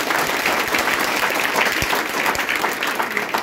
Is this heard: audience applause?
yes